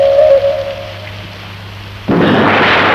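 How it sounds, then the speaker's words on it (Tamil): Heavy rain bursts in abruptly during a storm in a Tamil film scene, a dense loud hiss that follows a quieter stretch of steady tone and low hum; no distinct thunderclap stands out. "மழை வேற வருது."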